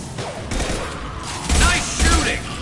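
Gunfire in the video game Mass Effect 2, bursts of shots with heavy low thumps swelling around the middle and end, loud and close, over continuous background game sound with faint voices.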